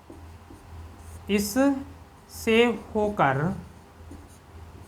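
A biology teacher writes on a board in a classroom, faint scratching strokes beneath a man's spoken explanation.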